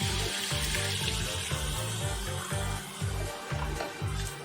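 Water poured into a biryani pot of deshi rice sizzles and fries loudly, a dense crackling hiss with a rhythmic low stirring or scraping pulse, no talk over it.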